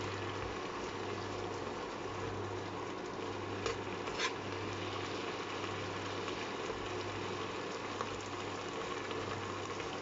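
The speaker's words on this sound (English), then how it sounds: "You can see it's bubbling and sizzling almost immediately." Food bubbles and sizzles in a pan on a Mellerware induction cooker top, a steady low-level hiss with faint pops and a couple of soft clicks, no speech over it.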